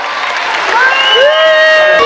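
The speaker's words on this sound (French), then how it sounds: "Vous allez les applaudir très très fort." Applause from an audience at a 1991 Christmas show for children who performed as magicians, a steady loud wash of clapping with a voice over it.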